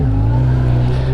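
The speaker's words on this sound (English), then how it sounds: "you've got the relatively noisy engine as well, so people are going to be aware of you" A 2022 Honda CB1000R Black Edition motorcycle engine runs loud and close, a steady low, throaty drone with no breaks and no voices.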